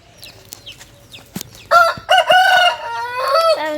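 Chickens in a coop give a few short, close clucks, then a loud drawn-out crowing call rings out over them.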